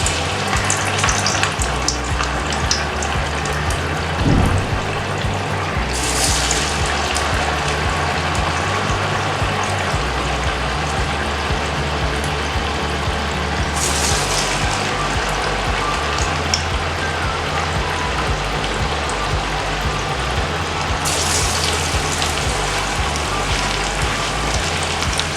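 Green pea kebabs fry in hot oil for a crispy snack, a steady dense crackling sizzle that fills the whole stretch at close range, with a few brief louder bursts as pieces shift.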